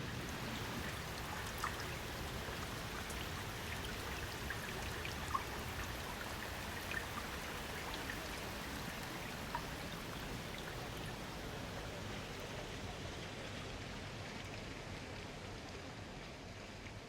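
Steady rain falls outdoors near a camper van in Ecuador, a dense, even hiss with soft patters that carries on for the whole time with no voices.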